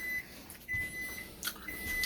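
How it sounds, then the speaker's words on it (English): A kitchen timer beeps in a dinner-table setting, sounding three thin, evenly pitched electronic tones spaced about half a second apart against faint room noise. "It's our timer."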